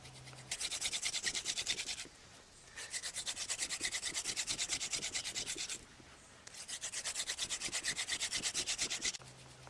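Rapid rhythmic wooden friction, a wooden hand drill spun by hand to make fire, whirring in three long bursts with short pauses between, close and steady.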